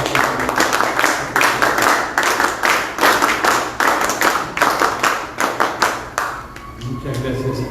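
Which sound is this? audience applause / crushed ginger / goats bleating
audience applause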